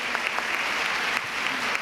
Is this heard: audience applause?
yes